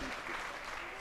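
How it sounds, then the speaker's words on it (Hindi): Dense, steady applause from an audience at a Guru Purnima festival gathering in Parbatsar, Rajasthan, a continuous wash of many hands clapping at once. "हमारे लिए भी ताली बजाओ कि मैं बढ़ा रहा हूं।"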